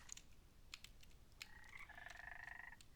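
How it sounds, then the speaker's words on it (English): Ribbit frog villagers in the Minecraft modpack Craftoria give a short, warbling croak that rises and then holds steady, mixed with scattered clicks of computer keys. The sounds are faint and come without any talking. "This is a village for little frogs that actually walk upright. They're called ribbits."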